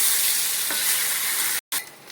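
Vegetables such as potato, pointed gourd and green banana frying in oil on low heat give a steady, bright sizzle close by, briefly cutting out before resuming more softly.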